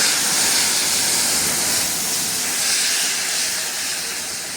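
Salted water poured over a beef heart roasting on a fire gives a loud, steady steam hiss with a rushing, sizzling wash that holds for the whole stretch, with no one talking.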